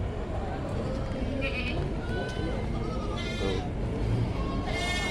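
A few wavering bleats from a goat rise out of a noisy livestock auction background, several separate calls over about five seconds, with voices murmuring underneath.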